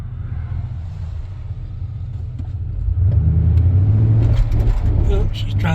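Cars on a road pass by a Ford F-150 with a 5.8 liter V8 parked on a hill while towing, a steady low rumble that swells louder and closer partway through as a vehicle approaches.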